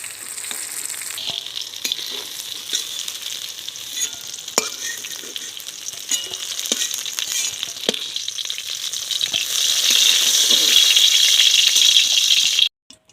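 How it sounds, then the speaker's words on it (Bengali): Eggplant pieces fry in hot oil with a steady, close sizzle and crackle, with occasional stirring clicks and a spatter that grows louder near the end before stopping abruptly. "বেগুনটা আমি খুব সুন্দর করে ভেজে নিয়েছি।"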